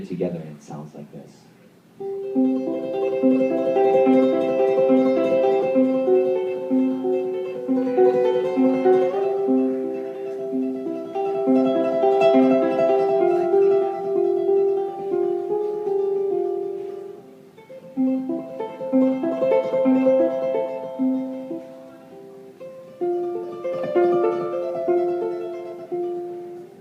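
Ave Maria is played on ukulele using classical tremolo technique, with rapid repeated picked notes carrying the melody over a plucked accompaniment. The sustained, flowing passage plays alone without talking.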